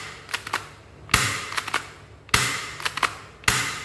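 A D Cobra P355 air gun is cocked with small mechanical clicks, then fired in three sharp, loud snapping shots spaced about a second apart, close to the microphone.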